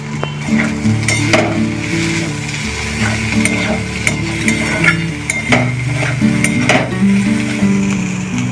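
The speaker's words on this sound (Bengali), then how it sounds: "এবার যে চিংড়ি মাছটা কুচিয়ে রেখেছিলাম সেটা দিয়ে দেবো" Chopped prawns hit a hot pan and fry with a loud, continuous sizzle, while a utensil scrapes and clatters against the pan in uneven strokes; no one speaks.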